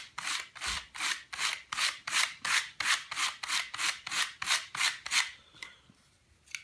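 Wood is hand sanded in a steady series of about fifteen rhythmic back-and-forth swipes, each a crisp, close raspy scrape, evenly paced before stopping abruptly near the end.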